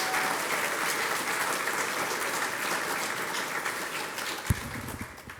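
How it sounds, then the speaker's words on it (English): A summit audience applauds continuously in a hall, a dense wash of many hands clapping that holds steady and slowly fades, with a brief thump near the end. "Can we please give them a round of applause"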